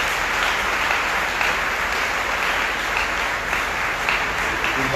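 Steady applause from a church congregation, continuous and even throughout, with no voices standing out.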